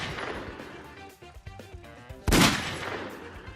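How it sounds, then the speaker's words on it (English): A single loud, unblended gunshot sound effect bursts out sharply and abruptly over a quieter background, jumping well above everything around it. "me layering a gunshot sound effect into a video without any sort of blending at a heightened volume"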